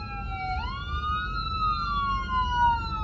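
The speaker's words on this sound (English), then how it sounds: "Like y'all don't hear the darn sirens." An ambulance siren wails steadily, its pitch sweeping up and slowly gliding down, loud and fairly close over low traffic rumble.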